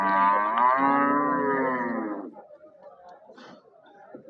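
A cow gives one long, loud low moo lasting about two seconds, followed by quieter background murmurs and faint rustling.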